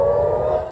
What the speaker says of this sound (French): Le son des sirènes a largement retenti cette nuit dans plusieurs villes israéliennes